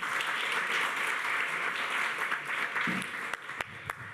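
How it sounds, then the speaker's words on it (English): Sustained applause from a lecture audience after a talk, dense steady clapping that fades slightly with a few sharper individual claps near the end. "Can we get another round of applause for Dr. Charisse Burden-Stelly?"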